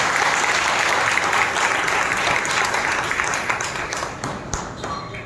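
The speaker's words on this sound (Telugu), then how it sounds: "ప్రభువుకు కృతజ్ఞతగా బిగ్గరగా చప్పట్లతో ప్రభువు" A church congregation at Sunday worship in Nellore claps loudly in thanksgiving, a full, sustained roar of applause that gradually thins and fades toward the end.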